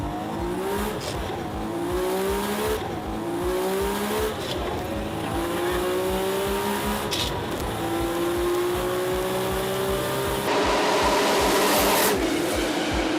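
A Toyota Supra at night revs hard with rising engine sweeps and tire noise, then accelerates away at speed in a tunnel, loud and sustained throughout with no talk.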